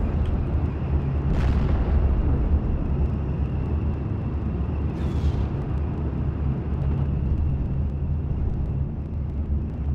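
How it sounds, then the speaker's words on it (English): Inside a Normandy 1944 wartime strategy game, a steady rumbling battlefield din with aircraft drone is broken by two sharp bursts of fire or explosions as an enemy Spitfire is brought down. "there's an enemy Spitfire. Can we shoot it down?"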